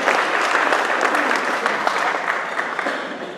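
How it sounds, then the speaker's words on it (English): Steady applause from a luncheon audience at a chamber of commerce awards event, the many hands clapping fairly loud and close for a few seconds before easing off slightly. "Let's give all of our sponsors a round of applause for their support and commitment to the community."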